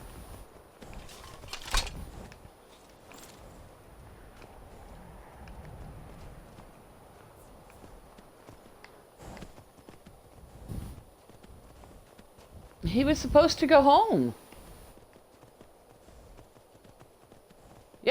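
Horse hooves clip-clop steadily at a walking pace, fairly quiet, with a brief louder burst of noise partway through and a short spoken line.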